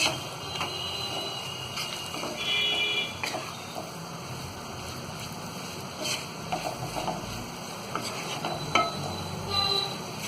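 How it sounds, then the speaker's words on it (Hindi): Spices, salt and potato-cauliflower pieces are stirred in a pan for a dry aloo gobhi sabzi, with steady scraping and soft sizzling close by and no talk over it. "तो ये सारी चीजों को हमने मसाले में अच्छी तरह मिक्स कर लिया है।"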